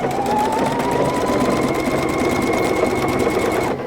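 A PFAFF creative icon sewing machine stitches ribbon onto fabric with a steady, close, continuous mechanical whir and rapid needle rhythm, running loud and alone before stopping at the end.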